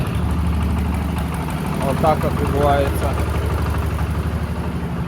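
A mini tractor's engine idles while tractors are loaded for shipment, a steady low chugging rumble heard up close beneath someone talking.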